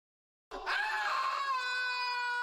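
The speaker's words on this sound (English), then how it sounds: "I have to warn everyone about the screams." A sustained, piercing scream from the retro VGA adventure game Loom bursts in after a half-second of silence and holds loud and steady for about two seconds, with no talk over it.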